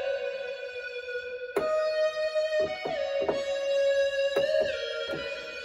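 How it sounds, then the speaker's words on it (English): A synth lead voiced like an electric guitar plays bright sustained notes with sharp attacks and pitch slides, set in a future bass production with a steady backing underneath. "So that's like a electric guitar sounding like synth"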